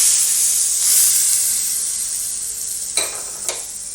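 Hot tempering poured into mango chutney sets off a loud, bright sizzle that hisses steadily, then two sharper spits as more oil hits the chutney.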